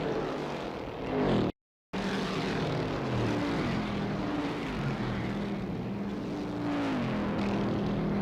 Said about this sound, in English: Now as the cars move down the backstretch, it looks like Bobby Johns has overtaken the Banjo